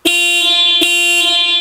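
Standard horn of a Westfalia James Cook camper van, honked close by in two loud, clear blasts, a short one followed by a longer sustained tone, with nothing else heard.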